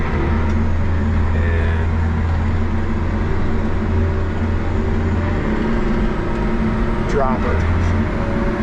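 A Case IH 550 Quadtrac tractor with a new engine runs in gear, a steady loud drone with a low rumble throughout, while someone talks briefly over it.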